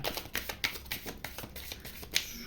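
Tarot cards being shuffled and drawn: a quiet, rapid run of crisp card slaps and riffles in an irregular rhythm, close and faint throughout.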